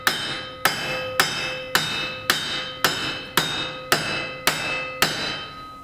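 A hammer taps metallically on the rudder assembly of a 40 ft wooden sailing boat, about ten evenly spaced, ringing strikes, each with a short decay, close and clear with no voices.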